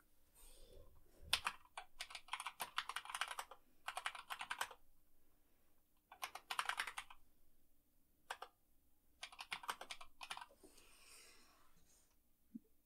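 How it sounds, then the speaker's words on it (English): A computer keyboard is typed on in several quick bursts of clicking separated by short pauses, close and fairly quiet, while a password is entered during a Linux install. "we'll type in a password here"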